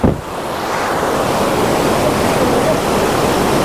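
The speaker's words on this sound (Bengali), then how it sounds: "এই দেখুন জল কিভাবে আসছে।" Stream water rushes loudly on a jungle trek in Buxa, between Jayanti and Boro Mahakal, as a close, constant roar of broadband noise with a sharp burst at the very start.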